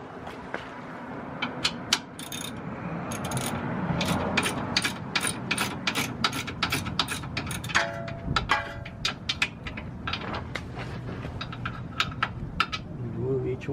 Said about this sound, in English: I'm just going to get a regular ratchet now